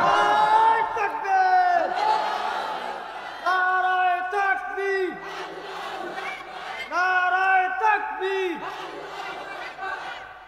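A crowd at a Bangladeshi Islamic religious gathering (waz mahfil) chants the takbir, a loud, massed chorus of voices rising in repeated swelling shouts, several call-and-response waves across the clip.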